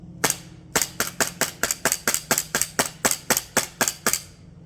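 A CO2 airsoft pistol firing about a dozen sharp, snappy shots in quick rhythmic succession, close and crisp with no talking.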